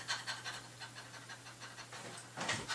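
Quick, rhythmic panting breaths, about a dozen short huffs in a steady series, close and fairly quiet, demonstrating diaphragm breathing for singing, with a brief laugh-like burst near the end.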